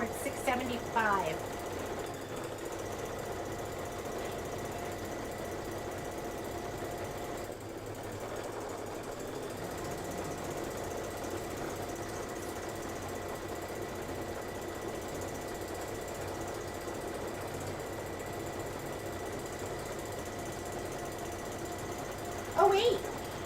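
An embroidery sewing machine stitches a door decor project with a continuous mechanical hum and rapid needle chatter, running steadily at moderate volume while a person talks over it.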